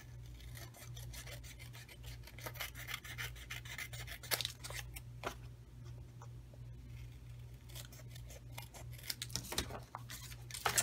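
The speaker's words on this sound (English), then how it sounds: "with my handy dandy paper snips" Paper snips trimming card stock for a handmade envelope, giving a run of soft, close crisp snips and rasping cuts with an irregular rhythm over a low steady background hum.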